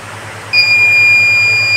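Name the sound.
water level alarm beeping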